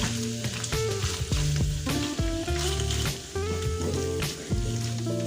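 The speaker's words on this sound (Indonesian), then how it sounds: "Kita biarkan ikannya digoreng sebentar supaya lebih kering saja" Fish frying in oil in a pan, a continuous sizzle running under loud music throughout.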